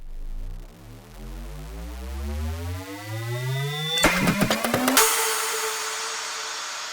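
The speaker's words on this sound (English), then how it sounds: "this really cool kind of glitch loop where I took a bunch of different loops" Downward and upward sweeping tonal sweeps give way to a burst of stuttering, chopped fragments, then a bright sustained wash, like a glitchy cut-up loop.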